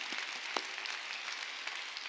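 Faint applause from a church congregation during a Sunday worship service, a soft steady patter of clapping with a few sharper claps, heard from a distance.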